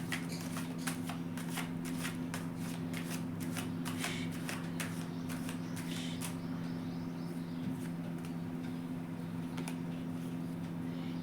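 Tarot cards shuffled by hand at close range, a continuous soft riffling with repeated sharp flicks and slaps over a faint steady hum, no talking.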